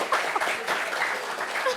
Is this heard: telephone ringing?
no